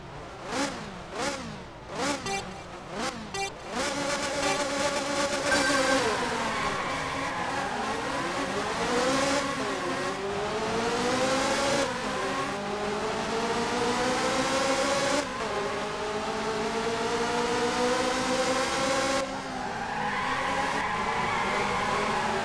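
Ferrari F355 racing engine from the PS2 game F355 Challenge, revving hard through rising and falling gear sweeps after a few sharp blips at the start, loud and steady throughout with no talk.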